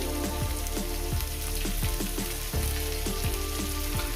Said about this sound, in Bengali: পেঁয়াজটাকে মিনিট মিনিট করে ভেজে নেবো